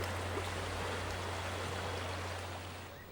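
An underground river rushes through karst caves toward distant springs, a steady, soft broadband roar of flowing water with a low hum beneath, fading slightly at the end.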